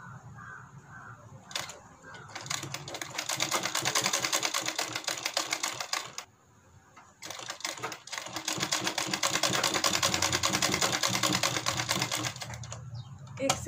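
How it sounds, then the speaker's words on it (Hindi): Sewing machine stitching a heart-shaped blouse neck design, two long runs of fast rhythmic whirring stitches separated by a brief pause, close and loud, with a voice talking around them. "इसी तरीके से इसके ऊपर से सिलाई को लगाते जाना है।"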